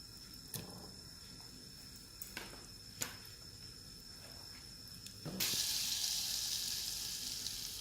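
A knob of butter hits a hot pan for bread pizza and a sudden, steady sizzle starts partway through, after a few quiet kitchen taps and clicks.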